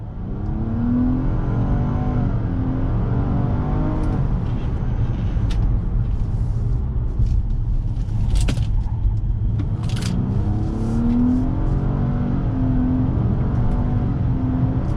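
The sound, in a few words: car accelerating at full throttle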